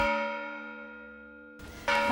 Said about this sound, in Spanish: Las campanas suenan, sonaban en otros tiempos para convocar a los vecinos, para alertarlos, para celebrar algo.